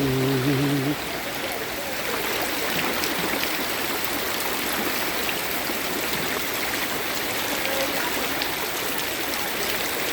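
Floodwater rushes steadily during record-breaking heavy rain in Dapoli, a loud, continuous churning flow heard up close, with a brief tonal sound at the very start.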